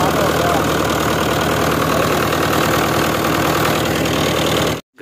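A tractor engine runs at a steady idle close by, a loud continuous throbbing rumble with a rapid knocking pulse, cutting off abruptly at the end.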